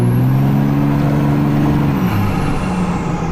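A tuned Cummins diesel pickup accelerates hard, its engine roar climbing steadily and loudly before a brief dip as it shifts, accompanied by a high turbo whistle.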